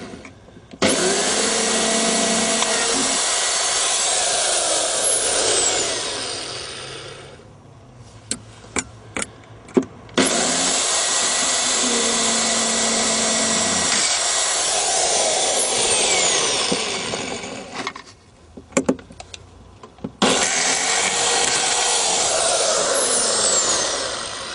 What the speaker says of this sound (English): I've just got to drill a couple of holes in there.